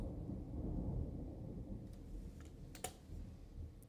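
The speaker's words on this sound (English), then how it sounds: "Thunder and lightning, very, very frightening me." Thunder in a League of Legends match rolls as a deep, swelling rumble for a few seconds, fairly faint, with a few sharp keyboard clicks scattered over it.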